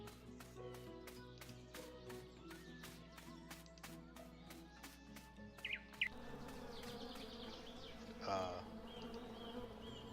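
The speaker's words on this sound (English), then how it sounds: "The bees won't let me come close." Bees swarm around a large beehive in a video game, a steady droning buzz that continues throughout under a pulsing rhythmic music loop, with a few brief chirps and a swelling whoosh near the end.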